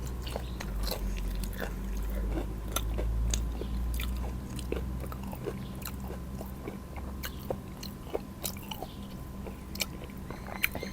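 Fried red sausage and crisp bitter melon being chewed, a steady run of crunchy bites and wet mastication close to the mic, with a soft low hum underneath and no talking.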